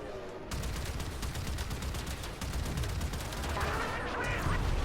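The Sigma Zetki weapon in Warframe fires in rapid, dense automatic bursts, a continuous rattling stream of shots up close that stops briefly and then resumes, loud and sharp.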